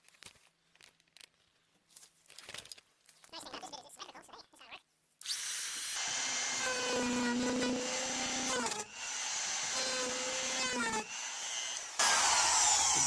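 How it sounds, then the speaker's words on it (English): Power router cutting a curve through a fiberglass-and-foam bench seat for a mini pontoon boat: after a few faint knocks, a loud whining motor cuts in steadily, its pitch shifting slightly as the bit bites the material. "I suppose I could flip the router in from this side and cut it"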